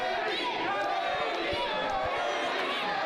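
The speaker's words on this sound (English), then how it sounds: "You hear the crowd starting to get behind Teddy Hart there now." A wrestling crowd at a Great North Wrestling match cheers and roars steadily in a large hall, a dense continuous wash of voices with scattered thuds underneath.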